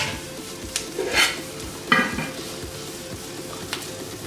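Kerala-style pork pepper roast with onions and chilies stirred in a sizzling pan, a steady fry hiss broken by a few distinct spoon scrapes and clinks against the pot.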